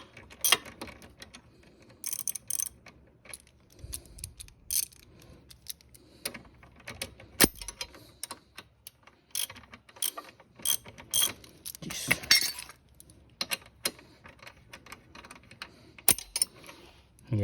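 A 12mm ratchet turns a nut while a center stand is fitted to a Honda Dax 125, giving bursts of quick, sharp clicking with pauses between strokes, close by, along with some rattling of parts.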